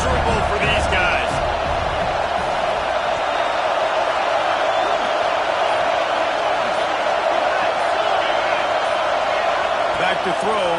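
A packed stadium crowd roars at a Penn State vs Michigan college football game. The loud, continuous wash of noise holds through the whole stretch, and a commentator's voice is heard over it.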